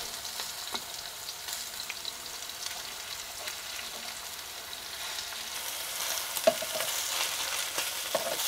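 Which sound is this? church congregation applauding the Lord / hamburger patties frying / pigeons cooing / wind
hamburger patties frying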